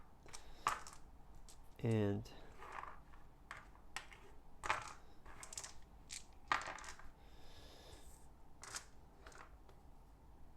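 Board game dice for War of the Ring being gathered up: scattered light clicks and clacks of plastic dice knocking together on a table, with a brief rattle, under quiet talk.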